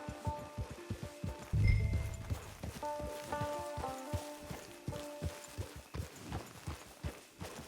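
Horse hooves clip-clopping at a walk in the video game Red Dead Redemption 2, a steady run of distinct close hoofbeats with soft background music and ambience.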